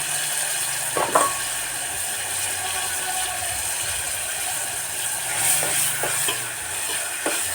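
Chopped ridge gourd with tomato, onion, turmeric and salt sizzles and fries steadily in a pan, with a few sharp clicks of stirring scattered throughout and no talk.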